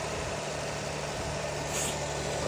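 A Toyota Sienna engine idles steadily at close range after an ignition coil replacement, a quiet, even hum with no speech.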